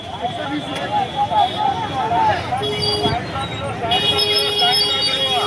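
Road traffic in the busy Kalupur vegetable market in Ahmedabad, with vehicle engines, occasional horns and market hubbub blending into a steady near wash of noise, voices chattering in the background.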